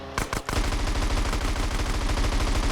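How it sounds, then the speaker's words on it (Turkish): Rapid automatic gunfire in GTA San Andreas, a few separate loud shots followed by a dense, evenly spaced burst that runs on without pause, close and heavy. "Adam bize vuruyor biz onu göremiyoruz yalnız"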